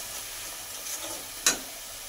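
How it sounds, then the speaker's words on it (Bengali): Spices, including coriander and cumin powder with salt and sugar, sauté in a pan for a stuffed pointed-gourd dish. A faint, steady sizzling hiss is broken once by a single sharp spatula scrape. "মশলাটা ভালো করে কষিয়ে নেবার পর"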